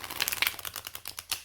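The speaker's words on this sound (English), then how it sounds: "it sounds a little different when you do your arch with the shuffle." Rapid, crisp fluttering clicks of tarot cards being riffle-shuffled with a bridge arch close by, a quick burst of snapping taps that speeds up and then settles.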